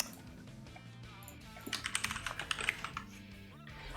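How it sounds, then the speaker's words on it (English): Quick bursts of clicky keystrokes on a computer keyboard patter in an irregular run, close and fairly quiet, with short pauses between flurries. "you guys might have to hear me clicky clacking on keys"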